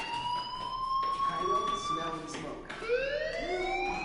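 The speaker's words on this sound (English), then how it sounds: "do you hear that fire alarm?" A fire alarm rings in the game Life is Strange, a sustained electronic tone that holds steady, cuts briefly and resumes with a rising sweep, loud and close with no talk over it.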